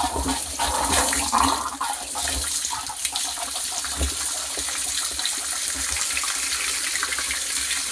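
Water gushes steadily into a farm tank through a valve, a loud continuous rushing and splashing that barely changes over several seconds.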